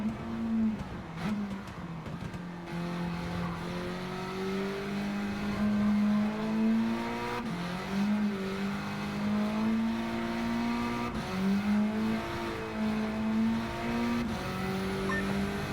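A race car engine in Gran Turismo 7 revs hard through the gears, its loud, close whine climbing and dropping in repeated sweeps, with occasional shifts, heard alone without talking.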